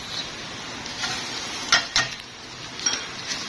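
Rice stir-fried with lightly sautéed onion in a pan: a soft continuous sizzle with a few sharp scraping clinks of a spoon against the pan, close and alone.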